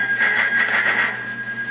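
Metal hand bell bearing the Danish crown, rung once with a bright, sustained ringing tone that decays smoothly, close and alone.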